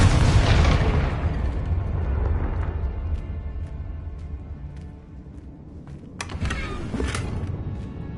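A Confringo fire-blast spell explodes in the video game Hogwarts Legacy: a loud, close blast that fades into a rumbling tail, followed by a few sharp bursts near the end.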